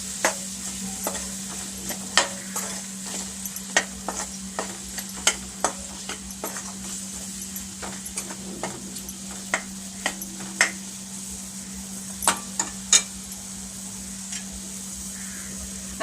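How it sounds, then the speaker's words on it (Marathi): A spoon stirring tomato with spices in a pan while cooking a black peas curry, giving a series of sharp irregular scrapes and taps over a steady low hum and soft sizzle. "तो आता मी थोडा शिजेपर्यंत ढवळून घेणार"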